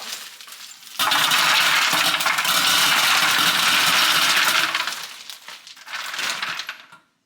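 Ice cubes from a bag tumble into the bucket of an old-fashioned ice cream maker, a loud, dense clattering rush that runs for several seconds, eases off, then swells briefly again.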